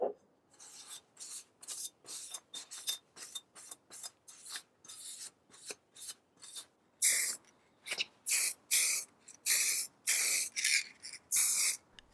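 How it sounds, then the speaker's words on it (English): Short hissing bursts of spray paint coat lightly sanded, cleaned metal furniture legs being refinished to match the handles. Many separate sprays come one after another, quick and close at first, then longer and louder, with brief quiet gaps between. "I just gave them a light sanding, cleaned them up and spray painted them to match"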